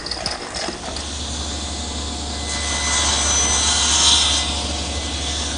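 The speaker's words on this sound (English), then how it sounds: "Now we'll just sand the very top." Abrasive rasping of sanding on the top of a wooden post runs continuously at close range, growing a little louder partway through, over a low steady hum, with no speech.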